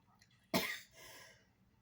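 A single close, sharp cough breaks out of near silence, followed by a short raspy throat-clearing trail from someone with a tickle in the throat.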